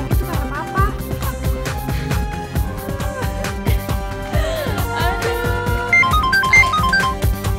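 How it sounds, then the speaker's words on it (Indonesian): A mobile phone ringtone plays a looping electronic melody, loud and continuous, blended with layered background music in an Indonesian TV drama scene. "Kok handphone ini gak diangkat?"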